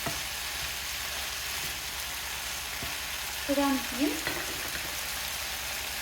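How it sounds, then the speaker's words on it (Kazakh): Bell pepper sizzles steadily in a hot pan, a constant crackling fry, while a voice speaks briefly partway through. "Болгар бұрышын шамамен 5 минутта қуырамыз"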